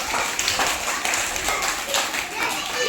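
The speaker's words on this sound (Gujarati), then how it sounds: "ચાલો બધા તમે તાળી પાડો તાળી પાડો" Children clap in a fast, uneven patter during a party bowl-filling chocolate game, steady and fairly loud, while an adult calls out over the noise.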